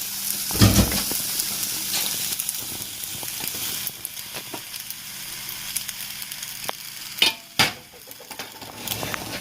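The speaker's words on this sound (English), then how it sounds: "I'll gently add the sauce and stir" Pasta sauce being added to a pan and stirred in, a steady sizzle throughout with a few louder scrapes and clatters of the spoon against the pan; no one speaks.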